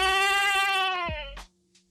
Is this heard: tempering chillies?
no